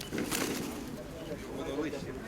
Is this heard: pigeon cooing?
yes